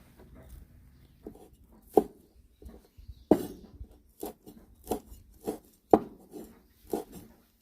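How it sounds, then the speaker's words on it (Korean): Knife slicing radish on a cutting board for kimchi, a series of sharp separate chops and thuds in an uneven rhythm, close and fairly quiet, with no talking. "슬라이스 해가지고 썰어 놓겠습니다"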